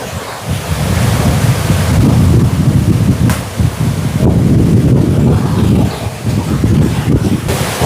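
Strong wind on a mountain buffets the microphone in heavy, rumbling gusts that swell and ease in waves, loud and close, with brief lulls between blasts.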